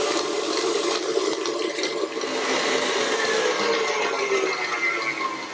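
An electric mixer beats butter and cream cheese together for a frosting, giving a loud, continuous whirring and churning that stays steady throughout.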